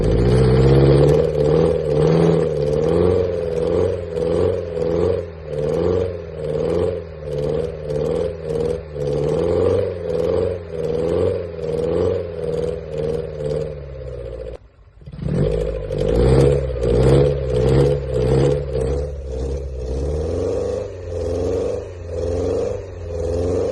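A 40-year-old Lotus Esprit's engine runs loud and rough with repeated revving that surges and falls. After a short drop-out it comes back and pulls away close by, with a steady drone and clatter.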